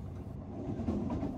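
Rumble of a passenger train ride departing Yeongdeungpo station, a steady low rolling drone with faint rhythmic rail clatter, moderately loud and close, with no talk.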